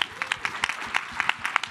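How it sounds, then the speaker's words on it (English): Sparse applause from a conference audience after thanks to the lab leader, a handful of distinct claps in an uneven rhythm, fairly faint and distant. "a round of applause for our fearless leader, Danielle Allen"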